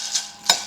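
Egusi seeds roasting on a stove, stirred in a pan, two quick scraping strokes with a faint sizzle beneath, close and brief.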